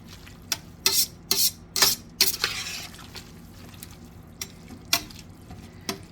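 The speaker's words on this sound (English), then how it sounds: "You want to stay with it and make sure you keep it stirred." Chow mein stirred in a pan over high heat, with a series of sharp scraping and clattering strokes, several in quick succession then spaced out, over a faint background sizzle.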